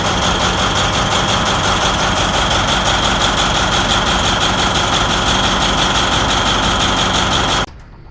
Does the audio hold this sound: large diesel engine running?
yes